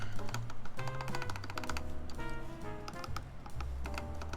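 Keycaps bottoming out on a polycarbonate Maja ergonomic keyboard make quick, uneven clacks over a steady low tonal background, at moderate volume.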